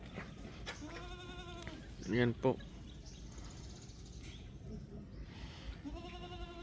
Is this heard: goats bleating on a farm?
yes